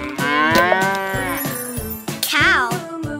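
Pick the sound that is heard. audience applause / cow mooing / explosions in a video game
cow mooing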